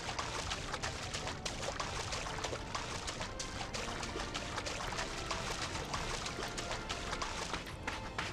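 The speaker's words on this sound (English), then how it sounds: "it's like I'm on sand but still playing the water sound effect" Looping water sound effect in Final Fantasy XIV, playing while the character walks on sand in Upper/Eastern La Noscea: a steady, dense splashing and trickling wash that continues evenly throughout.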